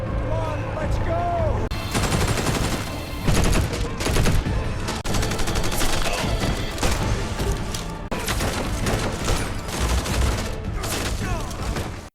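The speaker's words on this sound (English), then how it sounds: "Suddenly, gunshots erupt outside." Bursts of rapid gunfire crackle continuously outside a compound surrounded by police, dense and loud, with heavy booming thuds mixed in and voices faintly underneath.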